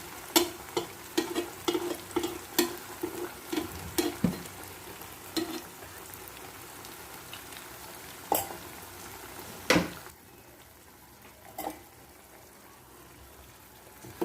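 Five beaten eggs stirred in a sizzling pan for egg fried rice, with rapid rhythmic spatula clacks at first, then sparser scrapes over a low, steady fry.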